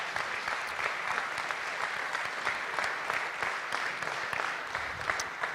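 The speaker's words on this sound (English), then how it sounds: "If we could give them a round of applause." Audience at a football banquet applauding, a dense, steady burst of clapping from a room full of people that holds even for several seconds.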